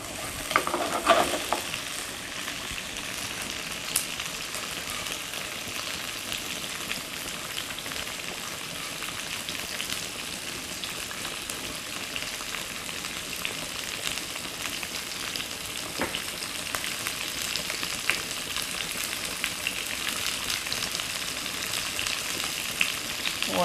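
Cauliflower sizzles in a rice noodle and tofu stir fry, a continuous dense frying crackle with occasional stirring scrapes, steady and close for the whole stretch.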